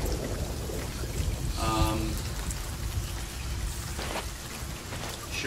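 Steady rain pours during a storm in a pirate-ship video game, a dense constant hiss with a brief tonal creak near the middle and faint low rumbling, no distinct thunder clap.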